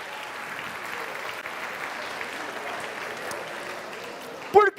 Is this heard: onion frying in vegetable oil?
no